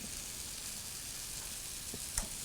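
A bun toasting lightly in a hot pan gives a soft, steady sizzle and hiss throughout, with one small tap or click near the end and no talking.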